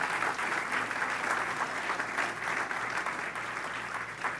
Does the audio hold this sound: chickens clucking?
no